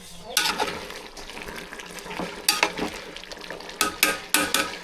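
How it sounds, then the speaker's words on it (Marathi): Dry chicken curry is stirred in hot tempering oil in a pot, giving a continuous sizzle broken by sharp scraping strokes of the spoon, with faint background voices. "आईने सुकं चिकन आहे ते फोडणीला दिलेलं आहे"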